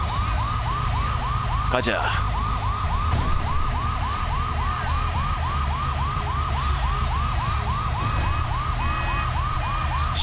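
Fire truck siren in the GTA V video game, a rapid, steady wailing cycle that repeats loud and close for the whole stretch, with a voice speaking briefly over it.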